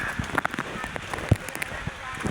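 Steady patter of rain striking a surface, with scattered louder drops and crackly taps throughout.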